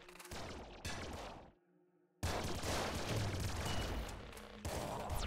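An assault shotgun firing in the Nuclear Throne game, dense blasts of gunfire in bursts with a brief quiet gap, sharp and close.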